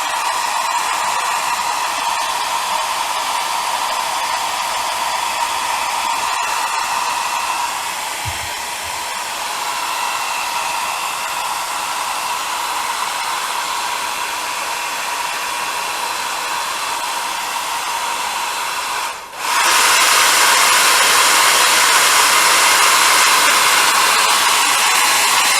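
A hair dryer blows steadily and loudly to dry a paint wash on a scale model aircraft, its airflow dipping briefly before returning at a stronger setting.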